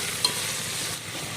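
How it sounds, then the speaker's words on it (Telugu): Vegetables for sambhar being stirred in a pan, a steady broadband frying hiss with a brief scrape of the spoon early on, close and continuous throughout. "కూరగాయలన్నింటినీ ఈ విధంగా యాడ్ చేసి ఒకసారి అయితే మొత్తం తిప్పుకోవాలండి"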